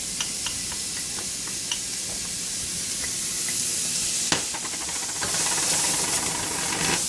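Fresh garlic sizzling in olive oil and meatball drippings in a pan, a continuous close hiss and spatter that builds slightly, with a few light clicks and scrapes.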